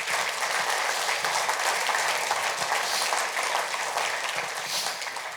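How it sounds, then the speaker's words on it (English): A room full of people applauding at an economic development group's annual meeting, steady dense clapping that continues throughout at an even level. "can we give all of you a round of applause"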